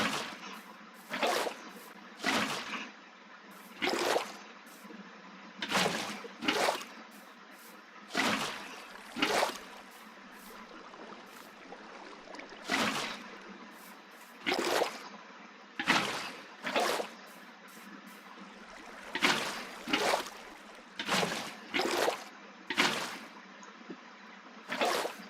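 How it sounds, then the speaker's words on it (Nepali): Water flows in Minecraft as a quiet, steady trickle, broken by repeated short splashy bursts in uneven clusters, with no talk over it. "यहाँ पानीको सोर्स हालिदिउँ एउटा।"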